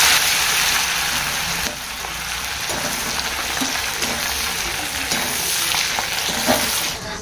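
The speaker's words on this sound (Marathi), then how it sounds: "आणि शेंगदाणे, डाळ्या वगैरे, मिरची, कोथिंबीर, कढीपत्ता सगळं तळून त्यात टाकताय." Peanuts, dal, chilies and curry leaves fry in hot oil for chivda, giving a steady, loud, dense sizzle that crackles continuously from start to finish with no voices.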